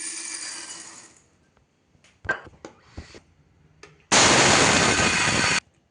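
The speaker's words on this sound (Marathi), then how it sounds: "साबुदाणा मिक्सरवर बारीक करून घेऊया." A kitchen mixer grinder whirs loudly as it grinds sago pearls into a coarse powder. There are two bursts, about a second and a second and a half long, with rattling and handling noises between them.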